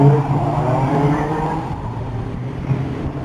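A Mercedes CLK63 AMG engine revs hard and close, a dense loud roar with rising and falling pitch that eases off toward the end, with no talk over it.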